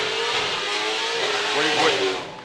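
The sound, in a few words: Formula Drift car engine revving during drift qualifying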